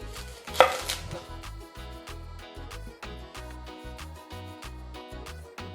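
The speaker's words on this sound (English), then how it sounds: "now we're going to cut our onion" An onion is sliced with a knife on a cutting board as part of a spicy chicken salad, producing a close, fast and steady run of crisp chopping taps that carries on without pause and with no talk.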